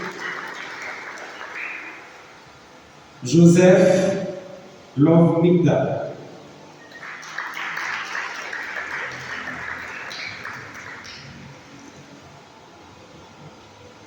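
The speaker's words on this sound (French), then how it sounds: "Elle est là, veuillez applaudir." Applause from an audience at a graduation ceremony for communication and journalism students, a broad hiss of clapping rising and fading across the clip while an announcer reads out names over it.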